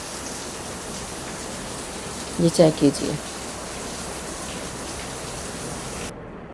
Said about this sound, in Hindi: बहुत ज़्यादा तेज़ बारिश हो रही है